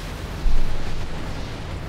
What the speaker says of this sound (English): Enemy mech destroyed.